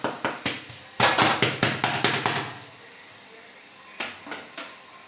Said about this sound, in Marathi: आता फोडणी देणार आहे